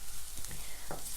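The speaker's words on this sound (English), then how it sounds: "sauteing the onion just for about 5 minutes or so." Onion sautéing in a pan for spinach fatayer filling, a low steady sizzle with a couple of soft stirring scrapes, faint and close, with no voices.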